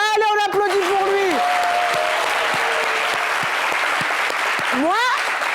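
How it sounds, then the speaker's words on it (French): Studio audience applause on a French talk show, a dense steady clatter of clapping with whoops and cheers, while voices call out over the start and the end. "Allez, on applaudit pour lui"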